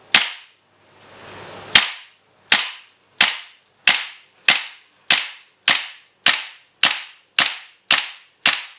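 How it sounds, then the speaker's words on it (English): A WE AceVD gas blowback airsoft sniper rifle fires a rapid string of about twelve sharp, loud shots at a steady rhythm, each with a quick decay, after a short hiss of gas at the start. "I'm going to try that a couple shots."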